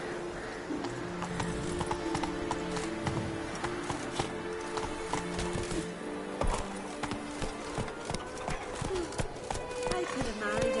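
Horse hooves clip-clop at a steady gallop in The Witcher 3: Wild Hunt, a continuous rhythmic beat layered with game ambience while a voice talks over it.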